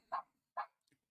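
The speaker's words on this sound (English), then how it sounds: "That's Titus barking." Dog barking nearby, two sharp, evenly spaced woofs followed by a faint short yip, loud and close in an otherwise quiet room.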